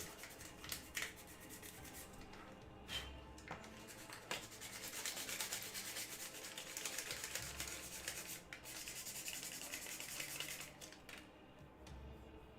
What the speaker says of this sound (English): Sanding I will do.